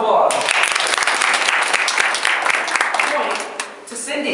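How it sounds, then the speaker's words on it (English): Group of participants in a name game giving a round of applause, a loud, dense burst of clapping sustained for several seconds before tapering off. "Give Rob a round of applause."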